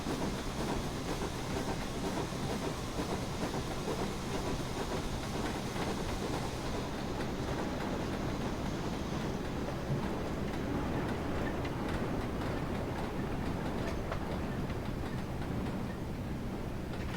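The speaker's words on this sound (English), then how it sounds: "those are those of the run sounds and joint sounds of the freight cars" Freight car wheels rumble continuously over rails in Train Simulator 2019, with faint rhythmic clacking over rail joints beneath a steady low roar.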